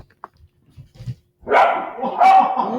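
Loud, close barking and yipping from an excited dog indoors, several overlapping barks with a rising whine, preceded by a few quiet clicks and thumps.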